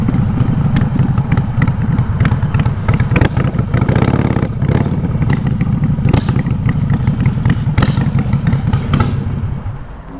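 A motorcycle fitted with an LAF exhaust rides close by, loud and rough, its engine burbling and revving in uneven pulses throughout with no talking.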